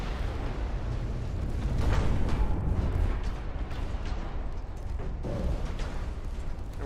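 Torpedo hit exploding on an enemy ship in the naval strategy game Ultimate Admiral Dreadnoughts: a sustained low rumbling blast that swells, then trails off into crackling bursts and distant thuds over several seconds.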